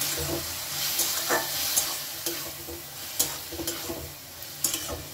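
Boiled bottle gourd being stirred in a hot pan over a high gas flame, a continuous close sizzle broken by repeated scraping and tapping of the spoon, with no talking.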